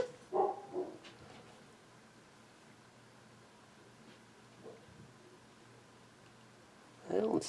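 A couple of household dogs bark in short bursts, one pair near the start and another louder flurry at the end, separated by a quiet stretch of room noise.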